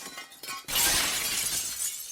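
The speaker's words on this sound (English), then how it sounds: "We're gonna break some glass too." Glass shattering on a wrecked tugboat in Roblox: after a few soft knocks, one loud crash of breaking glass bursts in and rings on as a bright, sustained tinkle of falling shards.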